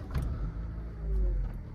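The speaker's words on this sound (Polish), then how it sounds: "naciskamy, odpalamy auto za pomocą start-stop" A Renault Kadjar engine starts at the press of its start-stop button, giving a steady low rumble that swells near the end of the short stretch. No one speaks over it.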